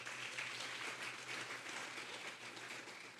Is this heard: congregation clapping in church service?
yes